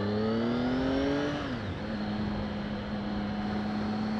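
Triumph Speed Triple R motorcycle engine heard while riding, a loud steady drone that drops in pitch as the rider eases off, then settles into a constant cruising tone.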